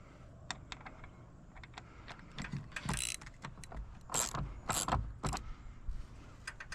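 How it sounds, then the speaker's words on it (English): A 14 mm socket wrench turns a bolt into a wall for a Starlink Gen 3 wall mount, giving rapid ratcheting clicks in short bursts along with scraping and clunks, close and fairly loud, with no talking. "you'll want to screw that in almost all the way"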